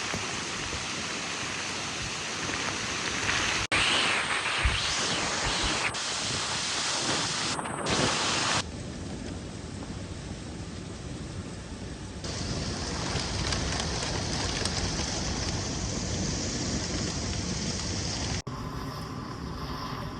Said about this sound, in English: Unfortunately, the wind is not letting me sleep.